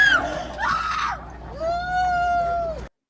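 Shrill screams and wails from people at a Halloween haunted attraction, a frantic cry followed by a long sustained high-pitched shriek, loud and close before cutting off abruptly.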